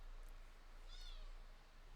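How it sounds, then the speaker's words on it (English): A house cat gives one brief, faint meow near the middle, otherwise a quiet room with soft hiss during a tutoring session. "Someone needs to get this cat under control for real."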